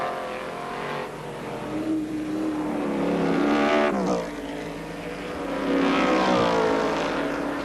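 Sports sedan race cars roar past at Lakeside raceway in the 1981 championship, engines rising and falling as two loud passes sweep by in succession.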